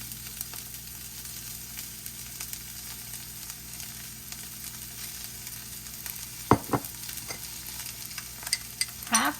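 Leeks frying in heated oil in a pan, a steady low sizzle with faint stirring scrapes and a couple of sharp utensil clinks near the end.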